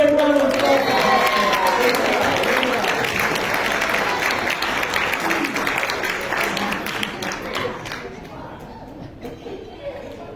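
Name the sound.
audience applause at a magic show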